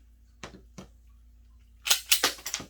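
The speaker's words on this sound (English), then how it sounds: "Drop the mag." A pistol magazine is dropped out during a handgun clearing drill, with two soft mechanical clicks followed by a louder cluster of sharp metallic clacks close by.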